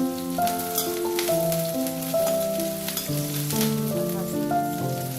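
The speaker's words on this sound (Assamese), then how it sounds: "এইটো কম জুইত ভাজি আছোঁ মই" Spices fry gently in a pan on low heat for veg dum biryani, a soft steady crackle running beneath background music, with no one speaking.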